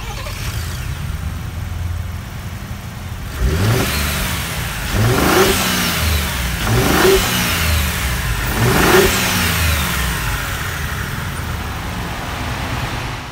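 A 2018 Ford Expedition Limited MAX's 3.5 liter twin-turbo EcoBoost V6, under an open hood, idles and then is blipped in three sharp revs spaced about two seconds apart, each rising and falling back to a steady idle.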